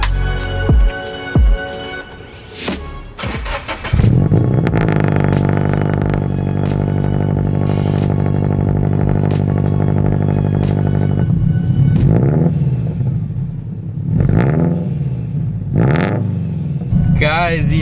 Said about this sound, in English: Dude, this exhaust tone is so nostalgic.